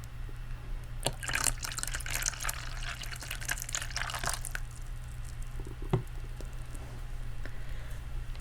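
Water is poured into a cup while planting French herbs in a quiet indoor setting, giving a steady, soft trickling splash that thins into a few faint drips, with low hum underneath.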